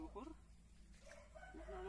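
Chickens cluck faintly near a drained fish pond, their calls quiet and brief beneath a person talking close by.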